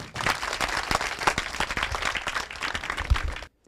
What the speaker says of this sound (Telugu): ఇంకా చప్పట్లు కొట్టండి ఈ అమ్మాయి కోసం